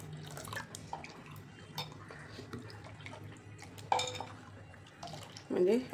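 Water pours in a thin stream into ground rice flour batter for ghavan, with light clinks of utensils and a bowl, and people talking faintly in the background.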